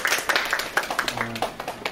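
Scattered hand claps from a small audience greeting a tenor at a prenatal class event, irregular and fairly close, with a brief voice underneath.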